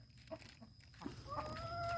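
Chickens cluck faintly in a rural yard, with a few short calls and a soft, tonal squawk near the end under low background noise.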